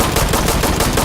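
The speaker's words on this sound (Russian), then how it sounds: "Ну хватит по нему стрелять." Rapid automatic gunfire from the Insurgency: Sandstorm shooter game, a loud, dense burst of close shots fired in quick succession with no talking.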